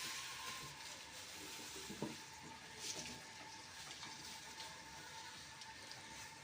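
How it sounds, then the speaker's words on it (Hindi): Onions frying in oil in a pan, a soft continuous sizzle with occasional clicks and a couple of stirring knocks, fairly quiet and steady with no voices. "पैन में हमने ये ऑयल रख दिया है, इसमें हम प्याज डालेंगे। प्याज हम ब्राउन करेंगे।"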